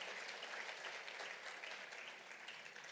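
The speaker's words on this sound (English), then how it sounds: "let's give her another round of applause" An audience at a gala dinner applauds an award winner, dense steady clapping from many hands, fairly distant, tapering slightly toward the end.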